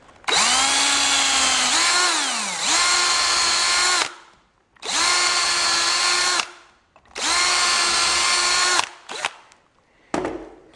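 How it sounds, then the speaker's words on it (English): An electric drill whines loudly in three long bursts through parts for homemade tank track guide teeth, revving up and stopping between each, followed by a couple of short spurts. "put this on there, and I'll drill through this"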